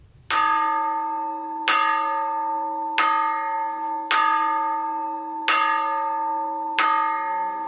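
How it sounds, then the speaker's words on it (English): A church bell tolls in a forest park in a glen, six loud, ringing strikes at an even pace of roughly one every 1.3 seconds, each hum lingering and decaying into the next, with no voices. "Each time the bell tolls in this unusual park"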